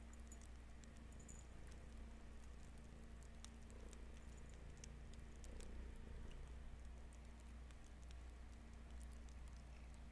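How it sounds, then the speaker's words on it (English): A pet cat named Socks purrs loudly and close, a continuous low rhythmic rumble running steadily throughout with faint crackly background noise and no talking. "Can you guys hear her purr?"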